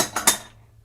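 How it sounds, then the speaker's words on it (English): A bowl is pulled out from among dishes, giving two or three quick, bright ceramic clinks close by, followed by near silence. "Let me get a bowl."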